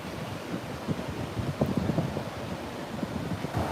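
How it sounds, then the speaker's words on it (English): Ocean surf at a famous Gold Coast surf spot with the sand washed away, a constant wash of breaking waves mixed with wind buffeting the microphone, steady and moderately distant. "this is a world famous surf spot"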